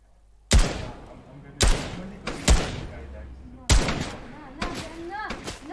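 Gunshots in the video game Fortnite crack out about six times, loud and close, each a sharp report with a short ringing tail, spaced irregularly around a second apart.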